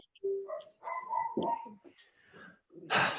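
An indoor dog barks and yips in several short bursts at people walking dogs past a window, fairly near, mixed with a few higher whimpering notes and ending in a louder outburst.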